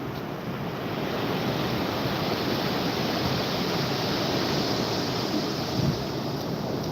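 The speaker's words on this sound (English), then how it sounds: "it's got these dang waves coming all the way up to me." Ocean surf washing up a beach at Topsail Beach, a steady, loud broadband roar of breaking and running waves throughout with wind buffeting the microphone.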